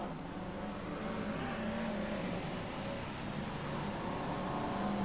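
BriSCA F1 stock cars racing at Long Eaton in 1994, a continuous loud roar of several engines as the field sweeps past together, steady and unbroken throughout with no voices.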